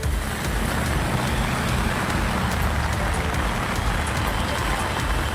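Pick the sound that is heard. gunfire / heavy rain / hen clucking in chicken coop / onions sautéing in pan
heavy rain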